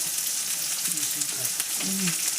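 Chopped onion, green chilli and curry leaves fry in hot oil for a semolina upma tempering, producing a dense, continuous close sizzle with faint stirring.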